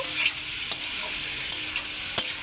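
Chili and turmeric powder masala is stir-fried in a pan for a fish curry, a continuous loud sizzle broken by a few sharp scraping strokes of the spatula.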